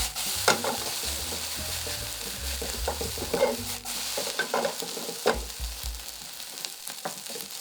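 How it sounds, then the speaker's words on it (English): Pork and egg fried rice with soy sauce being tossed in a hot pan, a continuous sizzle broken by scraping and clattering stirring strokes that come up close and fairly loud. "Add the soy sauce directly to the pan and toss to coat evenly."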